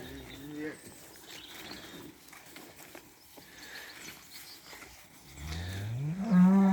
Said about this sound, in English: Got some cows and calves going out now.